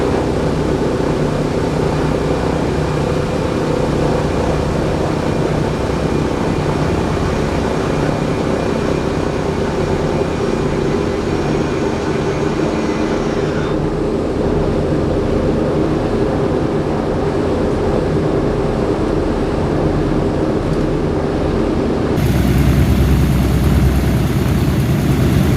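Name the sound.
B-17 Flying Fortress bomber engines in flight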